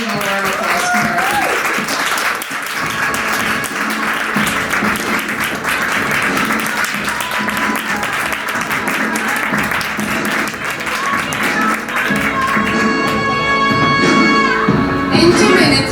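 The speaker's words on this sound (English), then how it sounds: "Please give a round of applause for her" Conference audience at GWC Bucharest applauding as a speaker walks on stage: loud, continuous clapping from a large crowd with upbeat music playing underneath, the music swelling toward the end.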